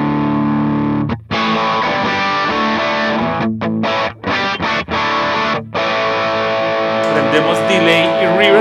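Electric guitar played through a final analog pedal into a Line 6 POD Go: loud, heavily distorted sustained chords and notes, briefly cut by a few short gaps.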